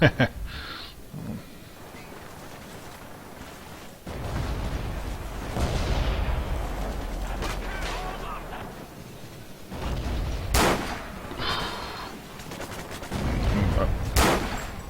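Gunfire and explosions ring out in a Forgotten Hope 2 World War II battle at Ramelle, with sharp cracks and bursts, a sustained rumbling barrage in the middle and someone talking over it.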